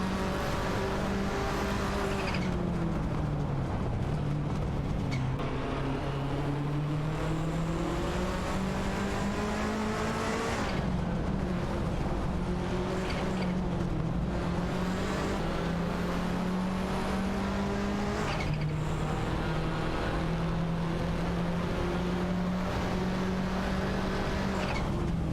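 Race cars, including a Porsche 968 Turbo R and a Mercedes-Benz 190 Evo, in an AI racing video game, with loud engines droning and rising as they change gear, tyres squealing, and cars passing close over a sustained stretch.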